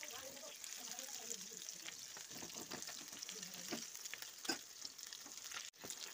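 Rohu fish pieces fry in hot oil with a continuous, fairly faint sizzle and a few sharper clicks and pops of turning, and a brief drop in sound near the end.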